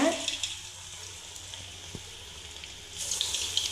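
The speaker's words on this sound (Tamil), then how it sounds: "இப்போ நான் எண்ணெயில் போட்டு காமிக்கிறேன்" Banana bonda batter dropped into hot oil, with a loud burst of sizzling and bubbling that settles into a softer, steady fry before flaring up again near the end.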